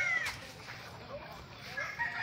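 Backyard chickens can be heard faintly, a rooster's thin crow rising in the distance behind soft voices and low background noise.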